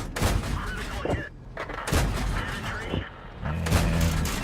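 Tank cannon fire in World of Tanks, an AMX 13 57 taking and bouncing shots in battle, comes as several loud booming gunshot bursts spread across the clip over a steady engine rumble.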